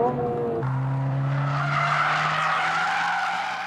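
A Toyota GR86 slides through a corner at Tsukuba circuit, its tyres squealing in a long continuous screech over a steady engine tone that shifts pitch early on, heard up close and loud with no talking.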